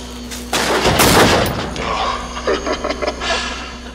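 A gunshot from the horror video game Until Dawn: one loud, sharp blast near the start, followed by a decaying rumble and then quieter clatter, with a low steady hum underneath.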